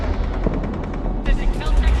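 Enemy gunfire in the Mass Effect 3 video game: rapid bursts of automatic shots rattling in quick succession, growing denser and louder partway through, with no talk over them.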